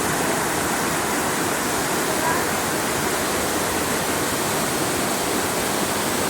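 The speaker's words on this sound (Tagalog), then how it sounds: "Pagpasok mo pa lang dito ay sasalubungin ka na agad ng napakagandang agos ng ilog." River water rushes steadily at Kalabato Hot Spring and Eco Park in La Paz, Leyte, a loud, even, unbroken roar of flowing current with no pauses.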